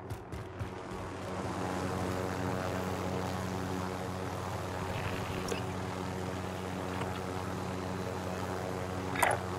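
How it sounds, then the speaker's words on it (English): A rotor-driven extraction helicopter flies steadily through a Warzone Plunder match, its droning hum continuous and fairly loud from start to finish, with a brief sharper sound near the end. "Extraction helo is exiting the AO."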